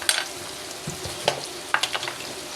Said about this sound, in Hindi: 2-3 मिनट तक भून लेते हैं।